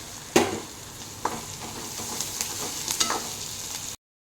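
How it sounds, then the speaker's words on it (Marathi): Sliced onions and green chillies sauté in a pan, giving a soft, steady sizzle close by, broken by a few sharp stirring scrapes and clicks, with no voices. "कांदे आता दोन मिनिट परतल्यानंतर ही ओली मिरची घालत आहे"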